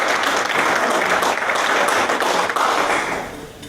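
A crowd at a sheriff's campaign event in the Crosby Community Center claps loudly in a dense, sustained wash of applause that fades toward the end.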